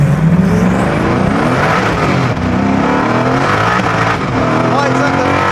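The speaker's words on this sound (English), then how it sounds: "Lights up the tyres." A 1000+ horsepower car accelerating hard with traction control off and tyres spinning, its engine note loud and close, climbing in pitch through the gears with a harsh, sustained roar.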